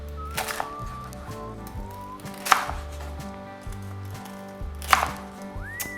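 Crispy deep-fried Thai pork belly (moo krob) is sliced with a knife, giving two sharp crunching cuts a few seconds apart over a steady low background hum.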